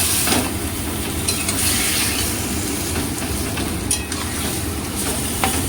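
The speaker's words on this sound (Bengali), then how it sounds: "এটাকে এবারে কষতে থাকবো।" Food being stirred in a hot pan, with a continuous close sizzle and scattered scraping clicks of the spoon throughout.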